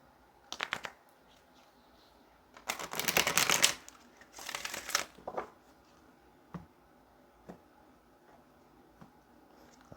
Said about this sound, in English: Let's go ahead and get a couple more shuffles